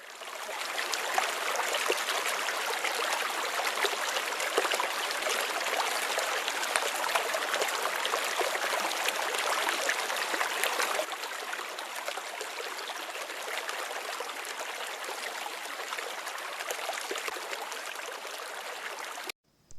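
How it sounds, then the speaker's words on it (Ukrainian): A babbling spring brook flows steadily, a dense, even rush of trickling water that carries on alone and softens slightly partway through. "А зараз я вам пропоную послухати, як саме шумить весняний струмочок."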